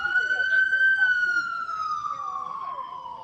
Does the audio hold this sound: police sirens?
yes